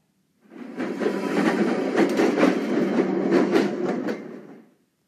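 A tram rumbles and clatters along rails at a steady pace, loud and close, fading in and out over a few seconds.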